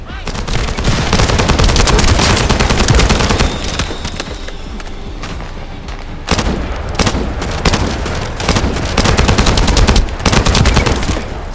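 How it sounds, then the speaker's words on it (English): Loud, rapid bursts of automatic gunfire in The First Descendant crackle almost continuously, with brief lulls and heavy booming shots mixed in, no voices audible. "That stopped the gunfire."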